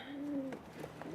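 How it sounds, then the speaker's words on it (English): Two pigeons in a carrier cooing softly, a couple of low rolling coos close by with faint rustling between them. "2 pigeons in an official pigeon carrier"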